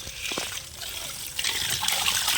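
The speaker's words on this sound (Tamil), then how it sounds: "இந்த டேங்கில் இருக்கிற தண்ணி கொஞ்சமாக ரிலீஸ் ஆகி வெளியே வந்துகிட்டு இருக்குது" Water trickles slowly out of a drip irrigation tank after its motor has been switched off, a close, continuous watery splashing with small bursts.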